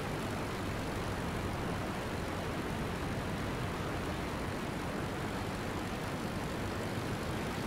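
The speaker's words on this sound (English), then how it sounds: "Make sure I'm not over revving the engine." Steady, unbroken drone of an Albatross D.II biplane's engine in the Rise of Flight flight simulator, a dense wash of noise held at constant loudness throughout, with no voices.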